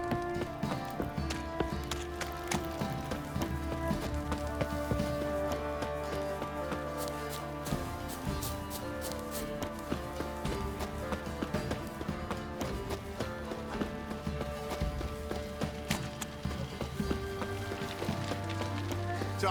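Horse hooves clip-clop steadily in The Witcher 3, a continuous run of even hoofbeats under layered music and ambient game sound for the full stretch.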